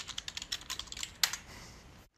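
Rapid clicking keystrokes on a computer keyboard, close and clear, as a password is typed in a quick run before stopping abruptly.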